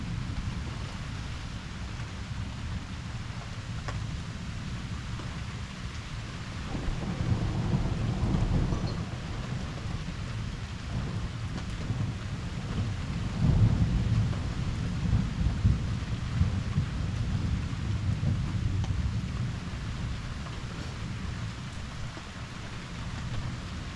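Thunderstorm over Liège, Belgium, with steady rain and deep rolling thunder swelling twice, near and loud, over a continuous wash of rainfall; no voices.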